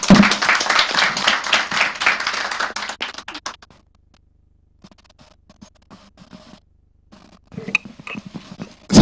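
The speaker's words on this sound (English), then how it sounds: "I think he deserves another round of applause." Audience applause for the chairman at the launch of Nigeria's first corporate sustainability report, a dense burst of clapping lasting about three seconds before fading to a quiet hall, with a few scattered claps and noises near the end.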